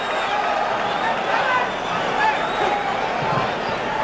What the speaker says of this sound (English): Crowd really into it here at Staples Center.